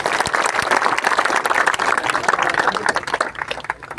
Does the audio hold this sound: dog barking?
no